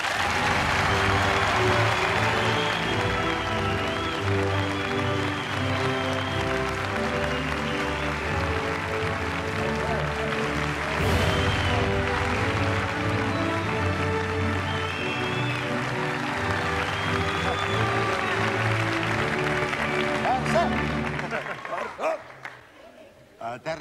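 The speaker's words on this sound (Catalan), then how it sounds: "Anem a rebre un aplaudiment al nostre convidat d'avui, Terry Venables." Studio audience of a Catalan television show applauds guest Terry Venables, a long, full, sustained burst of crowd clapping over background music that fades out at the close.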